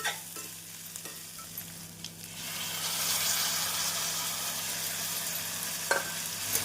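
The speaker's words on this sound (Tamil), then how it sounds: "தக்காளி சேர்த்து மீடியம் ஃப்ளேமில் நன்றாக வதக்க வேண்டும்." Tomato paste sautéing in a pan over a medium flame for a vegetable kurma, a steady close sizzle and frying hiss with occasional soft stirring scrapes and a faint low hum underneath, no voices.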